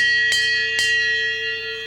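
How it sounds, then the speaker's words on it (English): A hand bell at a roadside attraction in Chapeau, Quebec, is struck twice in quick succession, two sharp bright rings over a steady ringing hum. "Fred celebrates with a ring of his bell."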